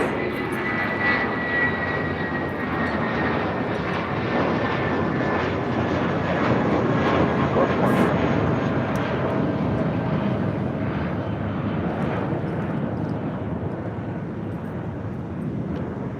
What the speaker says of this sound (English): That was JetBlue Airways Flight 1063 heading to Puerto Vallarta and an A320.